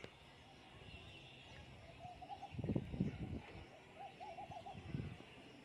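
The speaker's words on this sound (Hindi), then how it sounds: "शायद कबूतरों का आवाज है" Soft, low pigeon coos repeat in short rolling phrases, fairly faint against a quiet outdoor background with some nearby rumbling noise.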